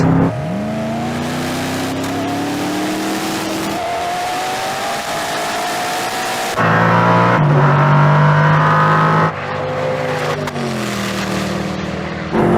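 A Koenigsegg Regera and Agera RST roar and climb through the gears in a drag race, accelerating hard with abrupt shifts, loud and close, with a brief tire squeal.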